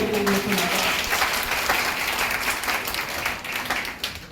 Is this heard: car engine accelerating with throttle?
no